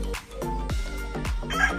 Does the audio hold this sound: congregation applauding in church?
no